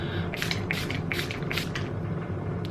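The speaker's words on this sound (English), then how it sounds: "I'm going to be taking the Mint Mattifying Face Mist" A mint mattifying face mist sprayed in a makeup routine: four quick, close hissing bursts at a steady rhythm, then a quieter trailing spritz, with no voice over them.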